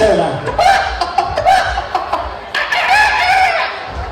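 A person imitates a rooster crowing with long, rising and falling calls, mixed with laughter and chuckling.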